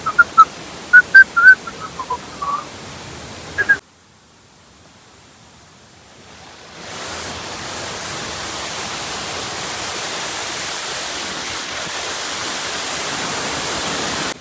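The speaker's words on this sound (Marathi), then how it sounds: "फायनली आपण येऊन पोहोचलेलो आहे पणसदरा धबधब्याजवळ" Rushing water at the Padsare waterfall near Pali: a steady, broad roar that builds in after a short quiet gap, with brief chirps at the start.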